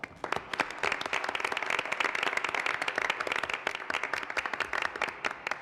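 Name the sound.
applause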